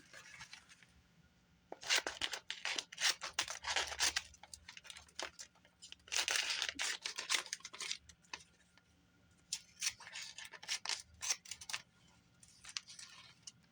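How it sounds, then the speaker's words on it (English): Scissors snip through plastic in quick bursts of crisp cutting and crinkling, close by, with short quiet gaps between, trimming it to a single layer. "I'm just cutting the plastic to a single layer."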